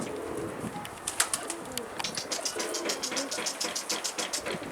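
Soft repeated bird cooing, close by, over a low engine-like hum in the background.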